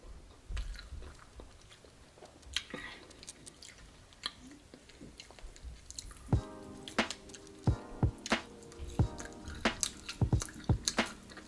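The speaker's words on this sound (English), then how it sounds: "excuse me for smacking." A person with braces eats and chews loudly, with wet smacking and crunching bites, close to the mic, growing busier and more rhythmic over time with no talking.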